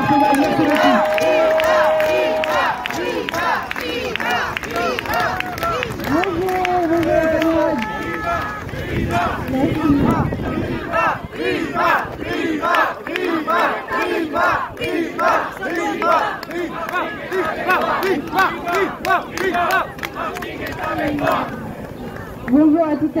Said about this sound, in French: avec vos applaudissements chaleureux et nationaux